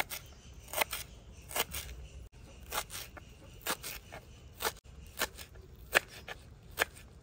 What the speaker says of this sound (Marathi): कोथिंबीर आपण बारीक चिरून घेऊ.